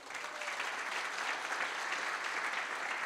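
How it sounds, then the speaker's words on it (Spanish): An audience applauding, dense steady clapping from many hands throughout, fairly even in loudness. "Démosle un aplauso a Atomy, por favor."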